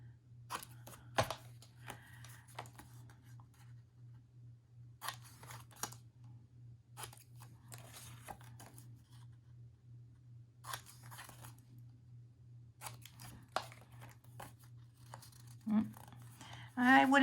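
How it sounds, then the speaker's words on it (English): Scissors snip the corners of paper gift tags in a series of short, crisp cuts spaced a second or two apart, close and quiet over a low steady hum, with a brief voice near the end. "Now let's finish it off by clipping the corners."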